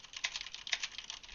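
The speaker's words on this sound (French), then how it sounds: "Le test du clavier mécanique, clavier Corsair K70 avec des switch MX Red" Quick, light typing on a Corsair K70 mechanical keyboard with MX Red switches: a rapid run of soft clacks and taps, close and fairly quiet, irregular in rhythm with no voices.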